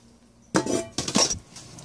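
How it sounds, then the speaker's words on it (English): Dry dishes put away into a kitchen cabinet: close ceramic and glass clinks and clatters in two short bursts, with a quiet pause between them. "I'm just going to put all the dry dishes to the cabinet."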